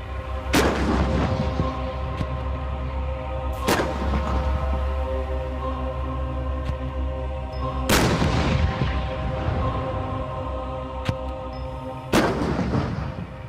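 A tank main gun fires on a firing range, four heavy booms spaced a few seconds apart, each with a long rumbling tail over a steady engine drone.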